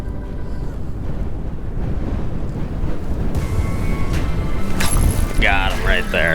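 Strong wind buffets the open surface of a frozen lake during ice fishing, a loud steady rush with rumbling gusts, and a voice speaks near the end.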